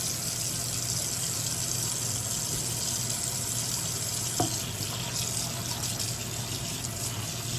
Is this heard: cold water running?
yes